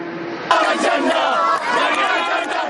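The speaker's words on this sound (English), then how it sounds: "Crowds of Palestinians chanted and embraced" A large crowd of Palestinians chants and cheers together in loud, continuous unison, voices rising and surging over a steady rumble of many people.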